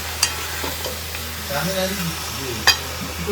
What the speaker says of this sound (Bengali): এই যে আমি ক্ষান্ত দিয়েছি, এখন ও খুন্তি নাড়াচ্ছে।